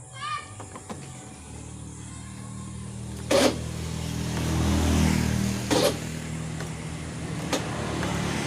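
A motorcycle engine with a dry-oil knocking fault is started using the double starter, low steady running under faint background noise, with two sharp clicks or blips partway through.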